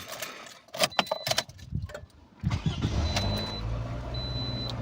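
Keys jingle and click in a Toyota's ignition, then the engine cranks and catches, settling into a steady close idle hum.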